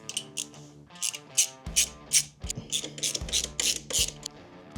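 A 13 mm socket ratchet clicks as inner primary bolts are broken free and backed out on a Harley Dyna, with close, crisp ratcheting bursts in short irregular runs and metallic creaks between them.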